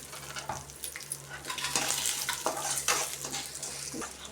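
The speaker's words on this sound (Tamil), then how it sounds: "நெக்ஸ்ட்டு இந்த கருவேப்பிலை காஞ்ச மிளகா எடுத்து போட்டுக்கணும்." Curry leaves and dried red chillies hit hot oil in a home kitchen pan. A steady, fairly quiet sizzle runs throughout, broken by a few scraping stirs.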